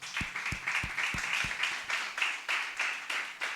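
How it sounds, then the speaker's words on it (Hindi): A church congregation claps in praise, a run of rhythmic, even claps with deep thumps under the first several beats, then the clapping continues more loosely at a moderate distance. "ताली बजा प्रभु के लिए"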